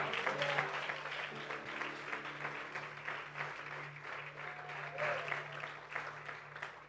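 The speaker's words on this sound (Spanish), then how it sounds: "denle un aplauso al Señor" A church congregation applauds at a worship service, a broad, steady wash of clapping that runs the whole stretch beneath a sustained low musical drone, with a few faint voices mixed in.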